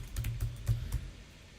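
Computer keyboard typing, a short burst of several irregular keystrokes close up and fairly quiet, with no voices.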